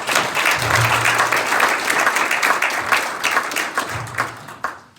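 A Manchester audience at a Nigerian community meeting with Peter Obi claps for itself, steady dense applause filling the room for about five seconds and thinning toward the end.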